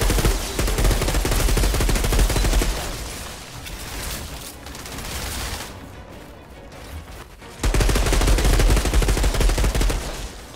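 An electric gun fires in the co-op shooter Outriders as a dense, loud, continuous stream of rapid discharges, pausing briefly partway through before the barrage resumes close up.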